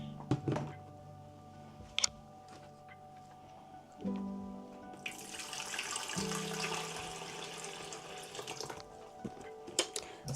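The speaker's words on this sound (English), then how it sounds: "Now I need to add fresh water." A few thunks and clatters, then a tap opens and water gushes into a bucket to add fresh water for washing floors, the flow steady and fairly close with occasional knocks around it.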